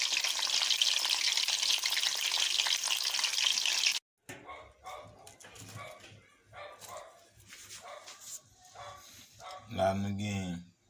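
Hot dog and banana, both black, frying in hot oil, with a steady loud sizzle for the first four seconds that gives way to intermittent clatter, talk and a dog barking near the end.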